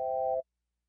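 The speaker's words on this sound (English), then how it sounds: "So now we have a nice sine wave type sound." A pure, steady synthesized sine tone holds for under half a second, then cuts off abruptly into silence.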